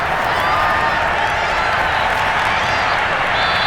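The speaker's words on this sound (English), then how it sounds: "We're going to give out a little applause on that play." Steady wash of stadium crowd applause and cheering in Madden 22 during a Raiders at Cowboys Thanksgiving game, loud and continuous without a break.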